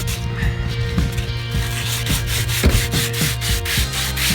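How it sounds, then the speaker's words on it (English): A 2.5-inch PVC pipe is rubbed down by hand with 180 grit sandpaper to remove oxidation, giving close, rhythmic back-and-forth scratching strokes at a quick, even pace. "this is just a little 180 grit just to get the oxidation off the PVC"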